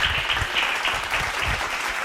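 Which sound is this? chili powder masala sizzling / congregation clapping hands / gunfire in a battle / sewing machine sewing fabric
congregation clapping hands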